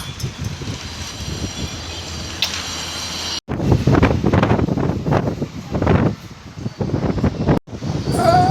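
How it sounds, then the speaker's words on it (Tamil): Strong wind buffets and roars across the microphone on a house rooftop terrace in continuous gusts, rumbling low and loud with brief dropouts. "எங்கள் வீட்டில் பாருங்கள் மாடியில் எவ்வளோ காற்று சவுண்டு கேட்குதுன்னு."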